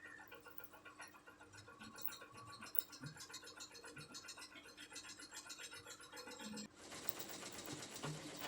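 Sewing machine stitching thread along a marked line on a blouse, a steady whirring mechanical drone that runs continuously at close range and grows brighter and louder toward the end.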